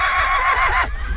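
A horse at a Norwegian trotting track whinnies once nearby, loud and clear, the tremulous high call dropping in pitch over about a second before trailing off into low background noise.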